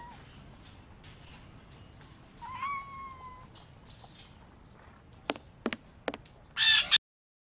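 A cat's meow in the Sherlock Holmes vs Jack the Ripper video game: a single clear, rising then level meow near the middle, over quiet street ambience, followed by a few sharp clicks and a loud bright burst at the end.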